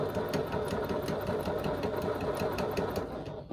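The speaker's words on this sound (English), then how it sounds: "she's not actually a bag making machine really, she's a quilting machine" A Husqvarna Viking Mega Quilter quilting machine stitches steadily, its fast, even mechanical chatter running continuously and close up with no talk.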